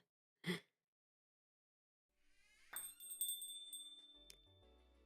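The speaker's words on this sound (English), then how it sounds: "The bell above the door chimes as I step inside" A small bell hung above a cafe door chimes once with a bright, shimmering ring that decays over a couple of seconds, following a brief breathy sound and quiet room tone.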